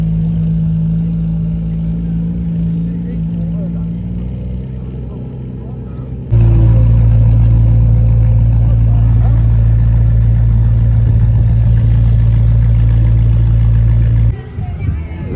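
A heavily modified Ferrari 355 on air suspension, its engine idling and then jumping to a loud sustained rev, the roar holding steady before dropping off near the end.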